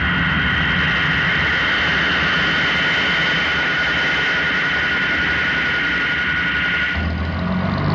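A jet airliner takes off with a loud, steady roar and high-pitched engine whine that fills the whole span, then the engine note shifts and deepens near the end.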